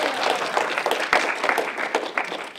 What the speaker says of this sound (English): let's give yourselves a round of applause for getting here on this really cold morning